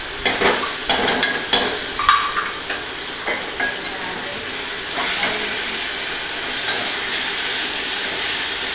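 Mustard seeds and cumin sizzle and pop loudly in hot oil for khichdi, with rapid crackles early that settle into a steady, bright hiss.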